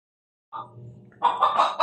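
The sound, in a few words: Texas chicken clucking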